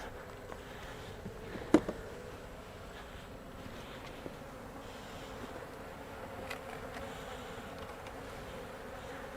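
Honey bees buzzing faintly and steadily around a beehive outdoors, a low continuous drone with a few small knocks and clicks, no talking.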